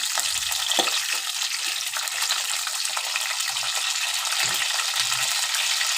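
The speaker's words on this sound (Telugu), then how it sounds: "కాకరకాయలు ఈ విధంగా ఆయిల్లో వేయించుకుని వేయించుకొని తీసుకోవాలి" Bitter gourd pieces frying in plenty of oil give a dense, continuous sizzle throughout, close and fairly loud, with a few faint low knocks.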